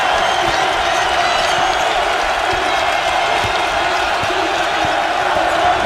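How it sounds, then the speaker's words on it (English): Basketball dribbled repeatedly on a hardwood court during an NIT college game between UL-Lafayette and LSU, faint irregular bounces beneath a loud, steady roar of crowd noise. "Lots of dribbling for Stroman."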